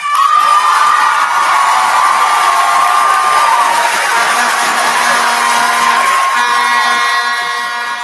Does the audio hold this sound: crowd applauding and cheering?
yes